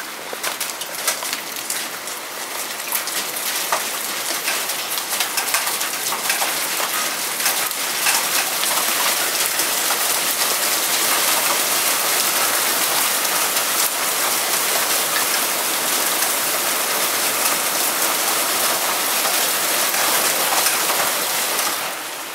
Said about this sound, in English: It's hailing. It's got some hail in it.